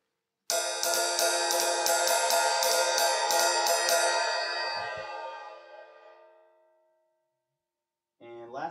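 One cymbal hit on the shoulder followed by a rapid series of light taps, then a shimmering metallic ring that fades gradually before a brief noise at the end.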